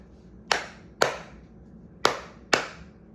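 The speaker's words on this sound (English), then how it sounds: "I want everyone to clap with me." A classroom of students claps together in a steady repeating rhythm, four sharp, crisp claps with brief pauses between them, close and clear with no talking.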